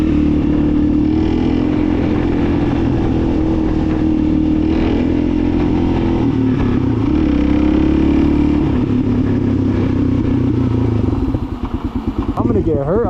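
A Suzuki DRZ motorcycle, once dead and now revived, runs loud and close on a test ride with a steady droning engine note that shifts and warbles near the end as the throttle changes.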